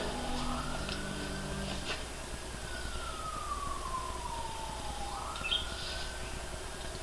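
A distant ambulance siren wails in slow rising and falling sweeps over steady low background noise, faint and far off during a Michigan ice and snowstorm.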